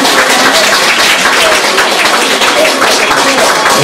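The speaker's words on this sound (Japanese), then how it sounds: "大きな拍手をお願いします。" Audience applause at a live action painting event in Osaka, a dense, steady wash of many hands clapping loudly and continuously throughout.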